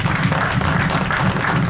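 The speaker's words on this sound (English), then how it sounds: "let's give our Legion members and our singer a nice round of applause" Audience applause honoring Legion members and a singer at a September 11 remembrance ceremony in Grant County, steady dense clapping filling the room throughout at close range.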